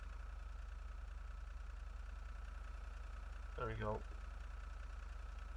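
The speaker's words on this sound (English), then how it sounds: "That is the sound of a diesel engine." A steady, low diesel engine idle from a car in a video game hums throughout with an even drone, and a voice briefly speaks over it near the end.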